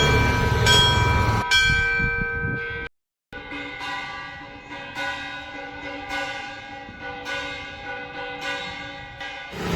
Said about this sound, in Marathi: तिथला आपण अशा प्रकारे घंटा वाजू शकतो